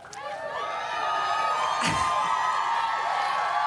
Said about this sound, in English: Thank you for that delayed cheer